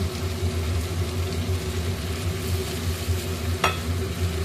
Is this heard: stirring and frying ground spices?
yes